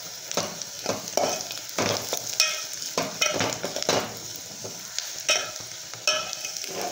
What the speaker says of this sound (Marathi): आता आपण याच्यामध्येच खोबरं पण भाजून घेऊ।